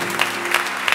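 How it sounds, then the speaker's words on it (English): A church congregation clapping in praise during a Sunday morning service, a steady dense wash of many hands filling the room, loud and close with no voices over it. "Let's give God a hand clap of praise"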